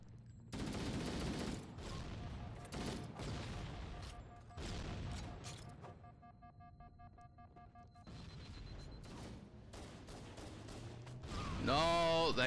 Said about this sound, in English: No, that grenade got me